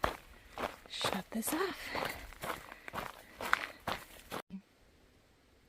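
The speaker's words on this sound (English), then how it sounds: "I think I might hear somebody coming along the path" Soft footsteps along a wooded trail path in Shenandoah National Park, faint and scattered beneath close talking, before the sound cuts to near silence.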